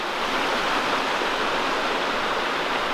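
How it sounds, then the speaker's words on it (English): A beautiful brook runs beside an old class 6 woodland road in the New Hampshire woods, giving a steady, close rushing wash of water that holds even and unbroken throughout, with no voices. "We got a beautiful brook running beside it."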